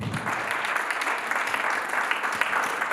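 Audience applause welcoming a speaker onto the stage at a business conference, a steady, dense clatter of many hands clapping throughout, fairly close and even in loudness.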